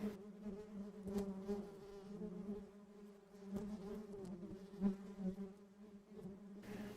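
Honeybees buzz steadily around an opened hive as frames are lifted out with a hive tool for inspection, a close, continuous drone with a few sharper clicks and thumps from the frames.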